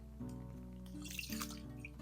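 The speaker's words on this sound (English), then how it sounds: "I'm going to take the rum out and pour it right into my pot." Rum poured from a bottle into a cooking pot, a soft, brief liquid splash and trickle near the microphone, half buried under steady background music.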